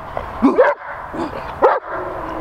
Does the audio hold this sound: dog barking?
yes